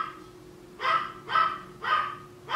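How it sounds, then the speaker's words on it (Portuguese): A dog barks three times in an even rhythm, each bark fairly loud and close, with a faint steady hum underneath. "o Fred fica assim, ó, latindo"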